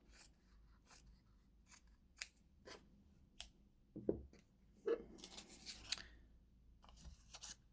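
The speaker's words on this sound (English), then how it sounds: "So again, I'm going to cut a bigger piece." Scissors cut through a piece of gold fabric for a Christmas cracker table topper, giving quiet, close snips and rustles in an irregular run of short crunches.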